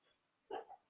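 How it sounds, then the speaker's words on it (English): A dog barks a brief double bark in the background of a quiet yoga practice, somewhat distant and alone against a near-silent room. "hear someone's dog barking."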